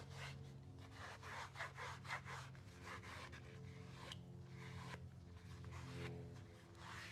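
Vegetable tan leather on a tooled book cover being burnished, a steady rubbing and scraping with repeated rhythmic strokes, fairly faint and close, with a rough, uneven drag over a sealed patch that isn't perfectly smooth.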